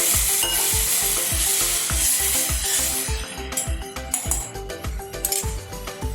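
Sizzling stuffed brinjal curry in a pressure cooker as half a glass of water goes in, a loud steady hiss with rhythmic low clinks and bubbling that turns rougher and choppier toward the end.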